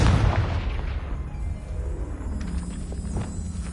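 A Confringo fire spell explodes in Hogwarts Legacy: a loud, deep blast hits at once and then rolls into a long rumbling tail, with a few faint clicks near the end.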